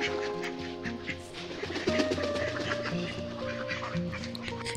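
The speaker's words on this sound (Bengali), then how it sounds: "তো হাঁসগুলা ছাড়ার পরে হাঁসগুলার খেতে দেওয়া হবে।" Village ducks quacking in a rural yard, a busy flock calling repeatedly at close range with overlapping quacks, some softer cooing birds mixed in.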